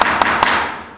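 Two sharp knocks on a door, about a fifth of a second apart, heard up close over steady background noise in a stage play.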